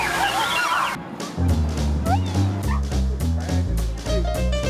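Several dogs bark in short bursts at a shaded dog park in Tampa, with steady music playing underneath throughout.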